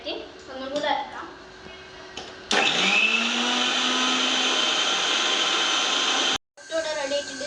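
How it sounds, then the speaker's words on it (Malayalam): An electric mixer grinder grinds ginger-garlic paste, its motor starting suddenly and whining loud and steady for about four seconds before cutting off abruptly, with quieter kitchen sounds before and after. "ഇനി നമുക്ക് ഒന്നും കൂടെ നല്ല മിക്സ് ചെയ്യാനായിട്ട് ഒന്നും കൂടെ അരക്കാം"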